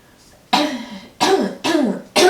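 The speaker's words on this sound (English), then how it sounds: "I can't clear my throat enough" A person clears their throat four times in quick succession, each a loud, close, rasping burst separated by short pauses.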